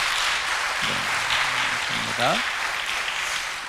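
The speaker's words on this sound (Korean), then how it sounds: "박수로 격려하겠습니다" A church congregation applauds during a Sunday service in steady, moderate clapping, while someone speaks briefly over it.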